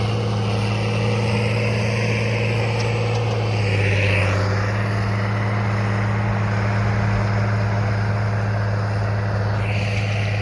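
A tractor pulls a cultivator fitted with flow shields through an organic soybean field. Its engine drones loudly and steadily, with a brief swell partway through and no speech.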